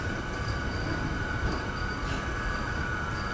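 A MEMU passenger train at a railway station gives a close, sustained metallic wheel squeal with a steady high ringing tone over a rumbling rail noise. There is no talk.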